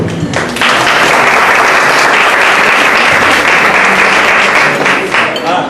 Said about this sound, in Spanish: pedirles un aplauso porque acaban de hacer una cosa muy bonita y la verdad yo comienzo con el aplauso